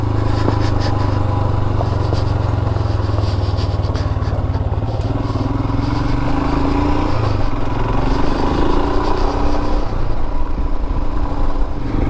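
A Royal Enfield Himalayan motorcycle rides off-road over fresh gravel, its engine droning loud and steady with compression braking and shifting pitch, tyres crunching over loose stones throughout.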